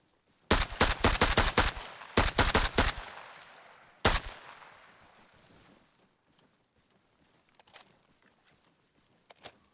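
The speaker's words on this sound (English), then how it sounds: "this gun does work good as a DMR" A DMR rifle in Arma Reforger fires two rapid bursts of loud, cracking shots, then a single heavy shot whose echo fades out. Faint footsteps and movement noises follow at a lower level.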